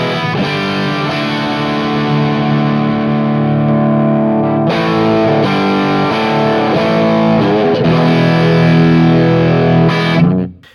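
An electric guitar played through a distorted amp with the Empress EQ pedal switched off plays sustained chords and riffs at full volume, then cuts off abruptly at the end.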